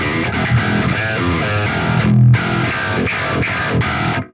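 Distorted electric guitar with a touch of reverb, heavy chugging strums ringing out loud and continuous, a short pause before the riff resumes and then cuts off.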